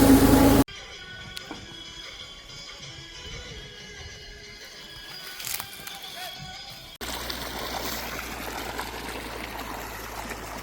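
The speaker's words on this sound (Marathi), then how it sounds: "ऊसाला पाणी सुरू येतं" Irrigation water trickles and flows steadily into a sugarcane field, a soft gurgling stream heard close by after a brief louder burst at the start.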